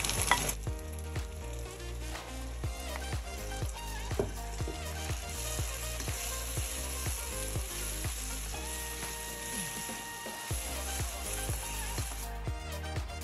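Tomatoes sizzle and fry in a hot pan for daal mash, a steady close crackling hiss with occasional stirring scrapes, heard alone without talk.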